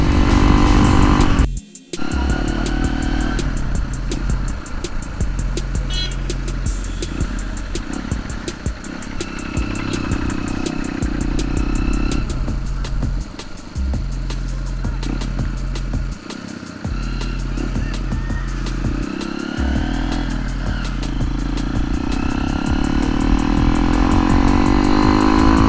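A Hero Impulse dirt bike engine running with its exhaust open and the dB killer removed, giving a loud, raspy, continuous idle and rev close up, with a steady low thump throughout and no talking.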